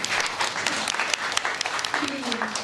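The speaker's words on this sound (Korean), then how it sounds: "박수 한번 주세요." Audience applause at a Korean press gathering in Los Angeles for a documentary headed to the Academy Awards, a steady dense clapping throughout with a faint voice briefly audible underneath.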